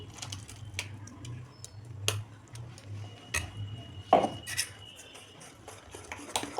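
Utensil clinking and scraping in a bowl while mango and chhana batter for malpua is mixed, with a few sharp taps and soft scrapes spread over a low hum.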